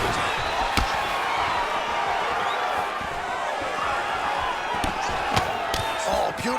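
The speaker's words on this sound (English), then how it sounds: "You hear this crowd just eating out of his hand, oohing and ahhing every time he advances" A UFC arena crowd during the Adesanya vs Strickland fight, a steady loud roar of cheering and oohing with a few sharp slams or cheers popping out, and voices faintly underneath.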